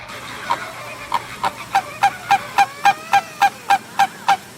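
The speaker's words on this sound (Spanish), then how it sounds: "Los flamencos son aves migratorias" Migratory flamingos call in a steady series of loud, close honks, about a dozen evenly spaced nasal cries that grow stronger and then hold level.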